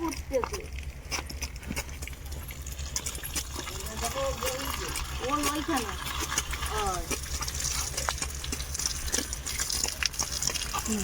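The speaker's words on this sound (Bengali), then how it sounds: "এইভাবে এই পাম্প খাটিয়ে জল দেওয়া হচ্ছে" Water from a pump flows through a pipe to water trees, heard as a steady gushing rush outdoors while voices talk over it.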